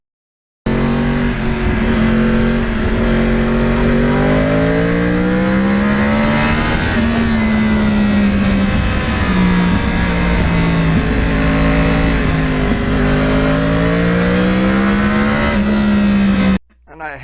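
A 2009 Yamaha R1 crossplane motorcycle on its stock exhaust rides past with a loud, close engine note that rises and falls through gear changes for about sixteen seconds before cutting off.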